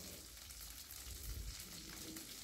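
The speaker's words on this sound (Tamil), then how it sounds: "இப்போ வேறு ஒரு கடாய் வச்சு அதில் 4 டேபிள் ஸ்பூன் கடலெண்ணெய் விட்டு 1 டேபிள் ஸ்பூன் கடுகு போட்டு நல்லா பொரிஞ்சதுக்கப்புறம் நறுக்கிற சின்ன வெங்காயமும் 1 கொத்து கருவேப்பிலையும் போட்டு நல்லா வதக்கிடுங்க" Mustard seeds, chopped shallots and curry leaves sauté in peanut oil in a kadai, giving a steady, fairly faint sizzle with crackling and no talk.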